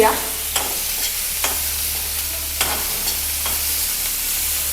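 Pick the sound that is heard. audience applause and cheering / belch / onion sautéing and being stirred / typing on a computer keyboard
onion sautéing and being stirred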